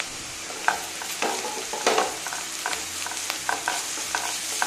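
Onions frying in a pan with ginger garlic paste while being stirred, a steady sizzle broken by scraping spatula strokes, as part of cooking moong dal khichdi.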